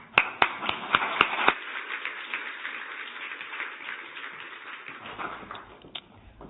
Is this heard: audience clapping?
yes